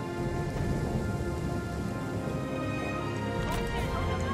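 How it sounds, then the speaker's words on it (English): Steady, dense rain falls in Total War: Three Kingdoms, a constant wash of pattering drops at even loudness throughout, with a faint low rumble beneath. "It's raining."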